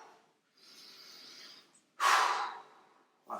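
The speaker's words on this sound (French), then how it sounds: "je souffle un petit peu" A person exhaling and catching their breath after an abdominal strengthening workout, with a soft long breath, a brief pause, then a sharp forceful puff, no talking.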